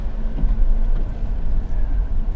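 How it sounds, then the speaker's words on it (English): Deep, steady low-end rumble of the V8 engine in a Mercedes R230 SL, a continuous throb that holds close and fairly loud throughout. "That's one thing the 350 really misses, the rumble of a V8."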